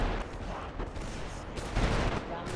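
Explosive bombardment and gunfire in GTA 5 roleplay during a zombie outbreak, a dense, continuous barrage of booms and shots with louder bursts near the middle and end.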